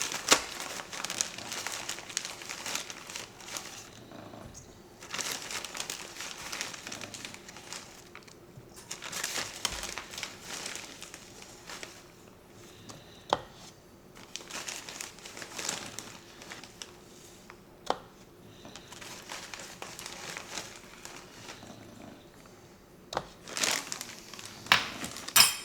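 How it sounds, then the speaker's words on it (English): Brown sugar is scooped and pressed into a quarter-cup measure, with repeated soft crinkling and scraping bursts of packing at close range, separated by brief pauses. "So I got a 1/4 cup spoon, and you want to pack it down in there"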